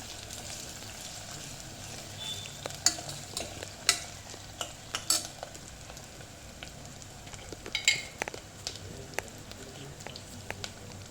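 Onions and ginger fry quietly in a pan for a spicy bone curry, with a soft sizzle under scattered clinks and scrapes of a spoon stirring.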